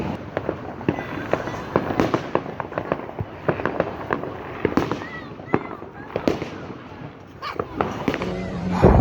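Bonfire night fireworks burst repeatedly outdoors, with sharp bangs and crackles scattered at irregular intervals, some near and loud, others more distant, while people talk in the background.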